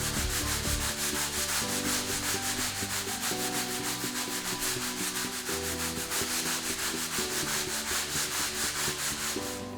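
Deck brush scrubbed hard across a Polytek floor, a loud rhythmic rasping of bristles with quick back-and-forth strokes repeating steadily and close by.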